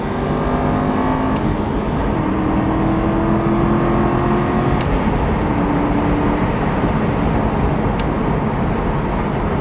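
Aston Martin Vantage engine held high at 6,000 RPM in second gear at about 60 mph, a steady loud droning roar heard from inside the car with faint tonal shifts, continuous and without talk.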